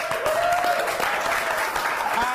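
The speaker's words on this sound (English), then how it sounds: "round of applause for the developers" A crowd at a game developers' festival claps loudly and continuously, dense applause with a few voices and a whistle-like tone riding over it.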